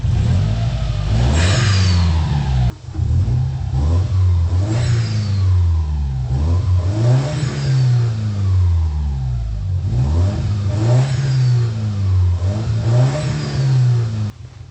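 Subaru car engine fitted with an aftermarket AliExpress turbo, revved repeatedly in a series of rising and falling throttle blips, loud and close with a rough mid-pitched tone and no talking.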